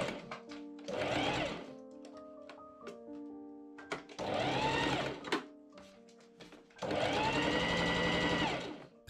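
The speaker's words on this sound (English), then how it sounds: "I pin and machine sew the white cravat seam." A sewing machine stitches a seam on a white cravat in three whirring runs of rapid mechanical rattling, close and clear, separated by quiet pauses with faint clicks.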